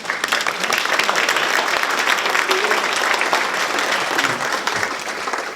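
Sustained applause from a conference plenary audience for the speakers, a dense steady wash of many hands clapping at even loudness throughout, with no talk over it.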